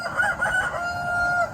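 A rooster among dual-purpose chickens crows once in a long, drawn-out call, loud and close, with no other sound around it.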